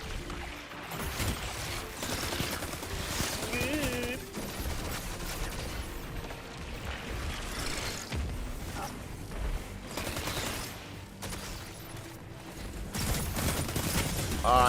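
Rapid gunfire from the video game Destiny 2 crackles in dense bursts alongside mechanical clicks, with a voice talking over it at times.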